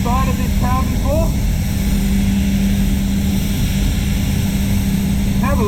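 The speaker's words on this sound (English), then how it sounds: "Have a look at that big fan, man, what a ripper" A big fan runs at steady speed with a constant whirring drone and a continuous hum throughout, loud and close, with someone speaking over it for a moment.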